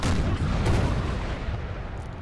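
French artillery pounding away in a Napoleon: Total War multiplayer battle, with a loud, broad booming blast that rumbles and slowly fades.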